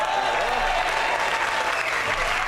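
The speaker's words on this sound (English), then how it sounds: "Big round of applause for that." A studio audience applauds heartily, a dense wash of clapping at steady volume throughout, with a voice faintly heard beneath it.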